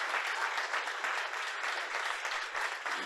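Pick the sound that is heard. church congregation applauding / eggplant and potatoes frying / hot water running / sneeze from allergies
church congregation applauding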